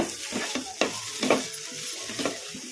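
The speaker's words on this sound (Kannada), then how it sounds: "ಹುಣಸೆ ಹಣ್ಣು ತೊಗೊಂಡಿದ್ದೆ ಈಗ ಇದನ್ನು ಹಾಕೋಣ ಈ ಥರ ಬಿಡಿಸಿ ಬಿಡಿಸಿ ಹಾಕೋಣ ಕಲಿಸ್ಕೊಂಬಿಡೋಣ" Tamarind is broken up and stirred into a stuffed bitter gourd curry in a pan, making soft sizzling with several distinct scraping, stirring strokes close up and no voices.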